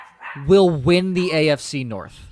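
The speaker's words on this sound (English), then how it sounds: "sorry about the dogs barking" Dogs bark and yip in the background at home while someone talks over them, the barks partly masked by his voice.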